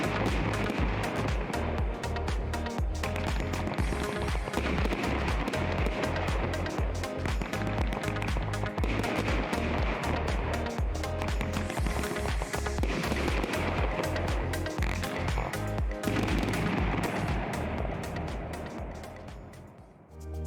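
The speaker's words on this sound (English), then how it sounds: "Pulse firing 80 shots of various effects made it a very popular piece for any display." A pulse-firing firework cake of 80 shots with a salute finale bangs in a dense, unbroken rapid barrage at full loudness for about eighteen seconds before tailing off.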